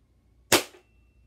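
A single sharp BB gun shot is fired at a shoe box, a short close crack with a brief fading tail, otherwise quiet.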